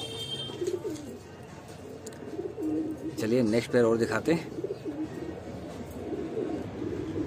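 Lalsare pigeons at a Bhopal loft coo in a close, throaty burst of several rolling calls midway through, with someone talking before and after and low background murmur throughout.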